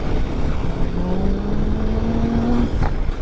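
A Royal Enfield Himalayan 450 motorcycle cruising at speed on a highway, a loud continuous engine drone with heavy wind rush and a slowly rising engine tone.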